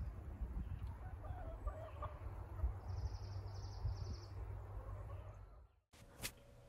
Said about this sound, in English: And there's some chickens behind us.